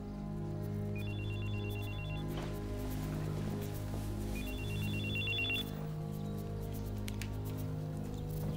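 An old-style telephone bell rings in two distinct trilling bursts, separated by a pause, over a steady low background drone and music in an indoor film scene.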